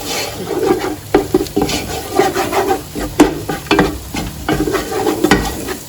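Plain eggs with no salt or pepper are scrambled in a hot pan with a spoon, giving a close, soft sizzle under repeated scraping and stirring strokes in an uneven rhythm, with no talk.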